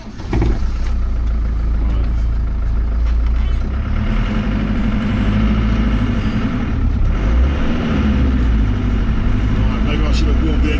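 1998 Land Rover Defender engine on a dirt track, a low, continuous rumbling drone with rough mid-range texture and bumping noise, loud and steady throughout, with a voice speaking over it in places.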